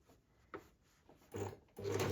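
A sewing machine stitches a parallel row across shirred fabric, short close bursts of whirring motor separated by pauses and soft handling of cloth.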